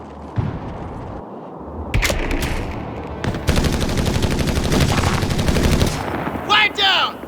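Heavy machine gun fire in the World War II strategy game Company of Heroes 3, loud sustained rapid bursts mixed with other gunshots and battle noise, continuing for several seconds.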